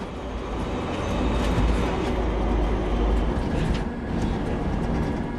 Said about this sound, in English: Even the sound in the rover was recorded by driving the rovers and Johnson Space Center.